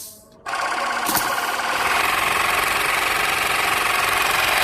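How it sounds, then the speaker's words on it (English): An air compressor on a portable PLC-based pneumatic trainer kit kicks on abruptly and runs loud and close, a steady rattling mechanical drone building air pressure with no pause. "You can hear the compressor working as it builds up air pressure to meet the required levels."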